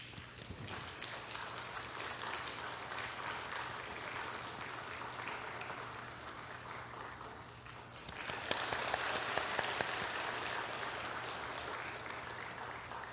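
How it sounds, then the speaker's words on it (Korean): A church congregation at Sunday worship gives a welcoming round of applause for a newly appointed senior pastor, a broad, hall-filling patter of many hands that swells louder partway through. "우리 환영의 박수로 환영하도록 하겠습니다"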